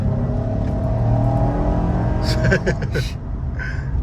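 A 2008 Ford Escape V6, freshly fitted with all six new spark plugs, revs steadily up close with a smooth, even engine drone that swells briefly near the end while people talk over it.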